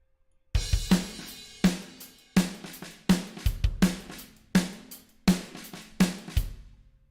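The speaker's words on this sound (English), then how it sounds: "the result of the drummer trying to keep rhythm on the snare drum, so they play it rather lightly" A drum sample plays a slow, loose pattern of deep kicks and snare hits, with softer, lighter snare taps between the accents, dry and close.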